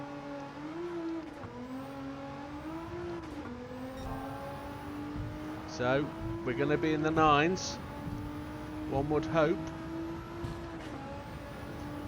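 Race car engine of an Alpine A110 fitted with a GTR engine swap in Gran Turismo 7 on the Tokyo Expressway, a steady high-revving drone with brief gear-shift dips and bursts of tire squeal, running under continuous talk.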